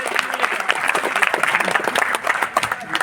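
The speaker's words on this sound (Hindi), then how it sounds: "मैं चाहती हूँ कि एक तालियां बज जाए" An audience at a national poetry gathering at Delhi University claps briefly, a dense burst of hand claps lasting about three seconds with some voices mixed in.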